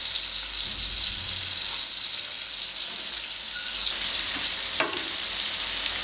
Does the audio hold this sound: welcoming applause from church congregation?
no